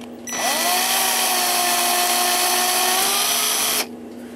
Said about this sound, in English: So I only got one more to drill.